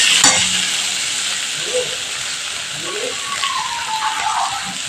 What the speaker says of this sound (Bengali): এবার এই মশলার সাথে ভেন্ডিটা আমি একটু ভালো করে কষিয়ে নিচ্ছি।